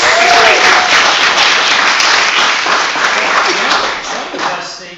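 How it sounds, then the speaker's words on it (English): A large audience applauds honouring military service members at a seminar, dense sustained clapping that fills the space throughout, loud and close, with faint voices mixed in. "Give them a round of applause."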